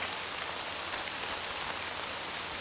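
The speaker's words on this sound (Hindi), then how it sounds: "बहुत तेज बारिश हो रही है।" Heavy rain pours down in a steady, dense hiss that stays loud and even throughout, with no voices.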